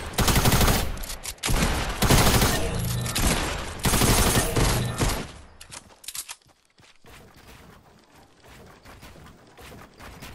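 A submachine gun fires in a video game in loud, sustained bursts of rapid shots that overlap into dense gunfire, easing to lighter, scattered shooting in the second half.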